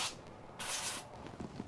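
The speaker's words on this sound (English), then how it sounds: "I sprayed it with some cooking spray" Cooking spray is sprayed into cake pans in two short, soft hissing bursts, quiet and close, with no talking.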